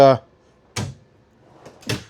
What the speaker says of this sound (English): So they're using the soft close drawers.